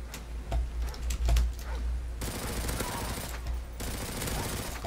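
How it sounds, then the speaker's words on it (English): Rapid bursts of gunfire from the video game Modern Warfare 3 in survival mode on a village map crackle in quick clusters early on, then give way to dense, sustained noisy firing or explosions at moderate loudness. "I love the sounds of guns in this game"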